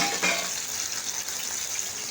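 Dal tempering frying in ghee, a steady close hiss and sizzle running without pause, with no talk.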